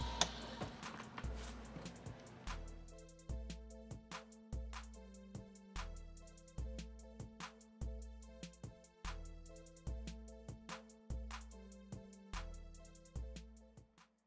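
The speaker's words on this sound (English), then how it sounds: "What you're going to see here is me trimming, chamfering, and deburring 5 cases." A tool trims, chamfers and deburrs .223 brass rifle cases, a quiet mechanical whirring in repeating cycles, roughly a dozen evenly spaced rhythmic passes with faint ticking between them.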